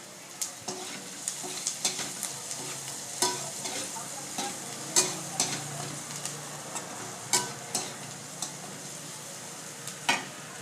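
Chicken chilli frying and being stirred in a wok over high heat, a steady sizzle broken by regular scraping stir strokes, close and alone.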